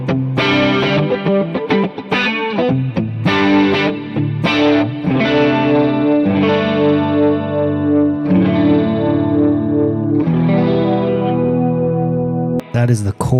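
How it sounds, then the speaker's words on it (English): Electric guitar run through a chorus pedal on a pedalboard, with only the effected signal heard: a continuous stream of shimmering, warbling chords and single notes, loud and close, with no one talking over it. "so let's do the chorus here"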